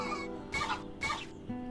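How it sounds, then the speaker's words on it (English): Zombie chickens in a video game give two short, close clucks in quick succession over a steady background hum of game music. "Kill the zombie chickens."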